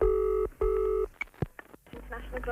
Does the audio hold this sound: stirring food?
no